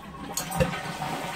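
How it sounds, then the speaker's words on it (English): A household toilet with a running fault flushes with a steady rush of water and a brief clunk of the handle, close and continuous. "And then I'm going to flush the commode."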